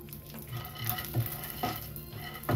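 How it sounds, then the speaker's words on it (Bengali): Chopped cashews and almonds fry in a spoonful of ghee in a pan, a steady soft sizzle with several louder scraping stirs near the middle and end. "কাজু কুচি আর আমুলটাকে ভেজে নেব কুচি করা।"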